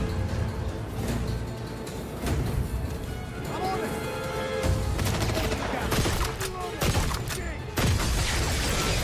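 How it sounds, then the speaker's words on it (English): Assault rifle fire in the James Bond game 007 First Light, repeated shots and bursts running steadily through the clip under someone talking. "The assault rifle sounds and feels like the assault rifle."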